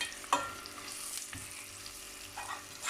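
Spices sizzle in hot oil in a pot, a continuous crackling fry with a couple of stirring clatters, heard up close for a few seconds.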